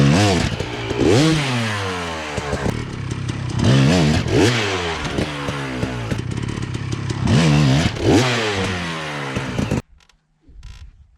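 A dirt bike engine blips and revs loud and close while jumping a log, with repeated rising and falling throttle surges over a steady drone, then cuts off abruptly near the end.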